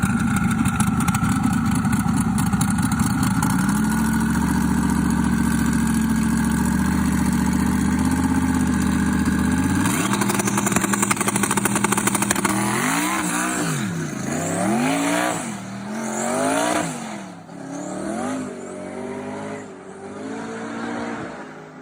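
Two 2,500 horsepower drag race cars idle with a deep, loud rumble, then one launches into a roaring burnout whose pitch climbs and wavers in repeated surges as the tires spin.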